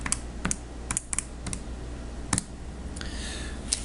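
Keys tapped on a computer or calculator keyboard to enter numbers for a sphere volume calculation, with irregular separate clicks at close range and no talk.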